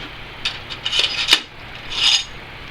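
Metal drill bits are picked out of a set and handled, producing a close series of light metallic clinks, scrapes and rattles, with a longer rubbing jangle near the end.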